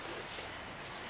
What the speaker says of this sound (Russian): Дождик.